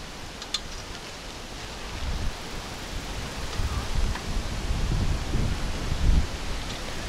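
Gusty northeast wind blows through large trees along a park alley, a steady broadband rustle and roar that swells louder toward the end, with buffeting against the microphone and no voices.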